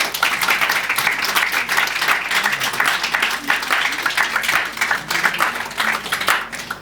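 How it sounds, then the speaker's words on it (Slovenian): A festival audience applauding two authors at a breakfast talk, a sustained patter of clapping from a moderate crowd filling the room evenly from start to finish. "Tako da en lep aplavz obema avtoricama."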